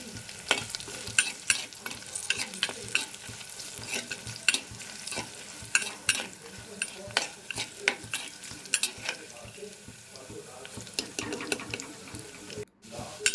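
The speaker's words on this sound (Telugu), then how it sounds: "ఎండుమిర్చిని చిన్న చిన్న ముక్కలుగా తుంచుకొని అందులో వేసి బాగా దోరగా వేయించుకోవాలి." Small pieces of dried red chilli fry in a pan for menthi pappu, crackling and spitting in quick, irregular bursts, with a brief pause near the end.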